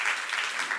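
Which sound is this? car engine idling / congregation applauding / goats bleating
congregation applauding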